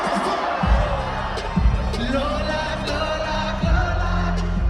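A concert crowd cheers and roars in a broad, steady wash beneath loud live music, with a voice talking over it throughout.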